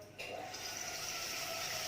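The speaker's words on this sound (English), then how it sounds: "put some water." Water pours steadily from a tap into a cooking pan, starting with a sudden gush and then running as a continuous, even hiss close by.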